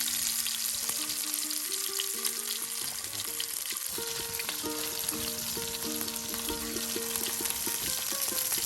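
Mixed river fish, including shing, frying in hot oil in a Bengali village kitchen, giving a steady, close crackling sizzle that runs throughout, with faint tonal sounds in the background.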